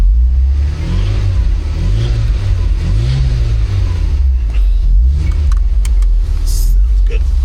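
An old VW Golf GTI engine revs in a series of rising and falling surges, loud and close, as a steady low drone runs underneath.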